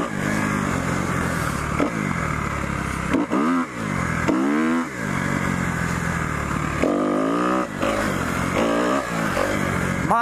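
A dirt bike engine revs and drones up close, rising and falling as it accelerates, with rattling and scraping along the ride.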